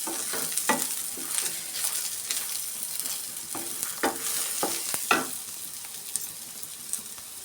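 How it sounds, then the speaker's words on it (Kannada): Black pepper, fenugreek and poppy seeds fry in hot oil with a constant light sizzle, broken by a run of scraping, clacking stirs of a spoon against the pan, close and without talk. "ಸೇರಿಸ್ಕೊಂಡು ಈ ಥರ ಸ್ವಲ್ಪ ಫ್ರೈ ಮಾಡ್ಕೊಬೇಕು."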